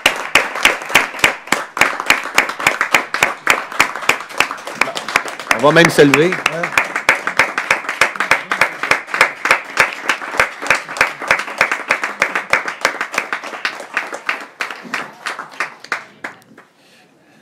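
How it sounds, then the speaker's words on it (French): A municipal council chamber fills with sustained applause for a retiring staff member, a dense crowd of hands clapping steadily for over fifteen seconds before fading out, with a voice speaking briefly over it. "Vous permettrez de vous applaudir ici."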